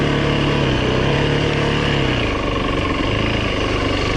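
A 2008 Yamaha WR450F dirt bike engine runs steadily and loudly up close, a dense continuous drone with a slight shift in pitch partway through.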